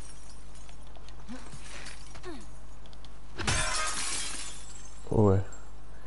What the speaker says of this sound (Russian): стекла тут разбиваются просто, пипец как